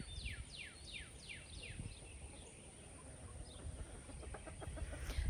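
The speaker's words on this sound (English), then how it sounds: "The birds are out in full force." Backyard chickens cluck and call in a garden on a muggy spring day, several rising squawks in quick succession followed by softer clucks, moderately distant over a low outdoor hum.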